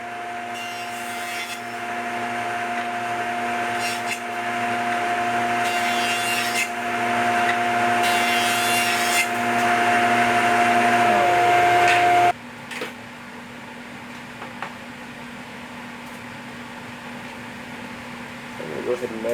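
A dust collection unit and an air filter run together in a woodworking shop, a loud steady broadband roar with a constant hum that cuts off abruptly partway through, leaving a quieter low drone.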